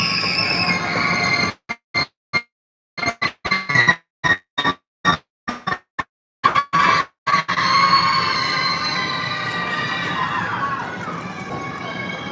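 Train rumbling through a tunnel, with a steady loud roar broken by rapid dropouts in the first half, then continuous rushing noise to the end.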